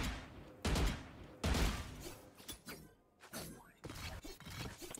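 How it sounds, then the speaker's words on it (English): Video game gunfire from Valorant while the player strafes: a few short, crisp bursts of shots separated by brief gaps, fairly close and loud, with faint background noise between them. "Or Valorant Strafing, or like shooting while strafing"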